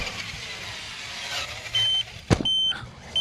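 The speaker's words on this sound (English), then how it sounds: "As you guys can hear, there goes my transmitter" An RC transmitter's low-battery alarm sounds high electronic beeps in short repeated bursts over the low rumble of an Arrma Talion 6S car, followed by a sharp clack.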